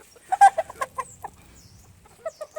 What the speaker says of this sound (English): Let's go let the chickens out.